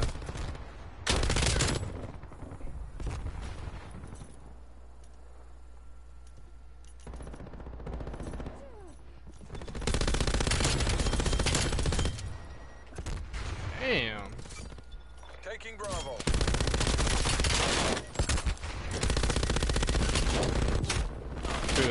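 Bursts of automatic gunfire in a first-person shooter game come in several loud clusters separated by quieter stretches, with a voice talking over parts of the action.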